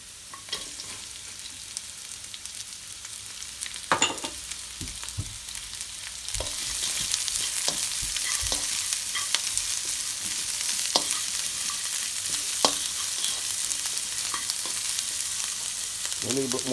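Chopped onion sizzles in hot oil in a pan while steamed cabbage is prepared. The frying swells to a steady, loud hiss after a few seconds, with occasional stirring clicks and scrapes. No talk.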